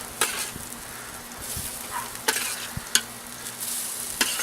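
Fish cakes frying in canola oil in a pan, giving a steady close sizzle and crackle with a few sharp spatters and pops scattered through.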